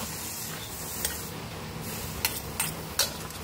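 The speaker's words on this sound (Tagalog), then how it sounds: "ilagay na natin ang ating baka. Haluin natin." Beef is stirred in a pot for kaldereta with coconut milk: a steady sizzle and bubbling runs throughout, broken by a few sharp utensil clinks against the pot.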